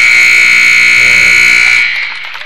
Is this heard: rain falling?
no